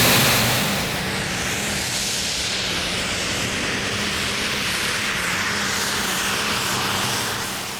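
Diesel-powered pulling tractor roaring loud and steady through a run at a Danish championship tractor pull in Herning, a sustained heavy engine drone with no talk over it.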